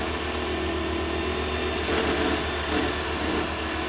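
A wooden Christmas tree ornament being turned on a lathe with a homemade parting tool gives a steady, continuous scraping rasp over the hum of the machine, swelling a little midway, with no voices.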